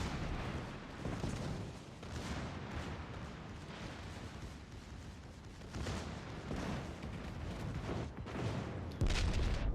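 Naval warship guns firing in a video game, heavy booming blasts rolling into sustained low rumbling, with several distinct thuds and a sharp louder hit near the end.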